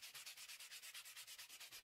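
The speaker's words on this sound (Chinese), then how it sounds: "用砂纸将表面打磨光滑" Sandpaper worked by hand over a wooden axe handle, smoothing the shaped wood in about fifteen quick, even back-and-forth strokes, close and alone.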